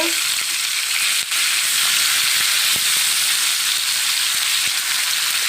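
Masala fish frying in hot oil in a pan, a loud continuous sizzle with a few small clicks and crackles as the pieces are turned.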